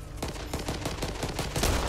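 Rapid bursts of video-game gunfire, including sawed-off shotgun blasts, crackle in a dense, loud volley of overlapping shots with no talking.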